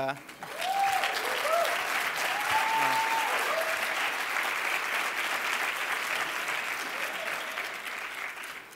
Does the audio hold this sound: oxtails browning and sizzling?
no